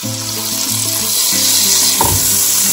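Beans spitting and frying in hot oil with turmeric and chilli powder, a loud, dense sizzle close up with a brief stir partway through.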